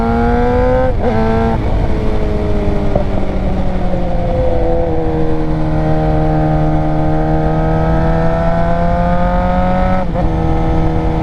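Lowered motorcycle idling and revving up close, a steady loud engine drone with a couple of sharp throttle blips that rise and fall in pitch, no talk over it.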